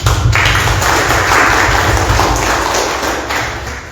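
Audience applause for a speaker at a 2021 reading-community workshop held by the Semarang regency archives and library office: a dense, steady clatter of many hands clapping for about four seconds, fairly loud and fading slightly at the end.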